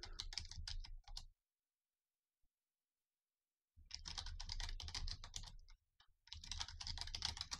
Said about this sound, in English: Type the password.